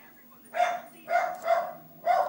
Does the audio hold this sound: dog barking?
yes